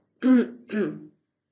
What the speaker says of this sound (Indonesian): rekaman materi ini banyak sekali noise termasuk saya batuk-batuk